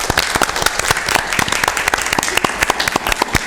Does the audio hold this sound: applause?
yes